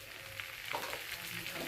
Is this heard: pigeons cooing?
no